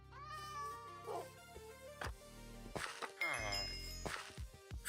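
A house cat meows repeatedly, the calls mixed with a small jingling and other indoor noises, fairly close and moderately loud, with a person's voice around them.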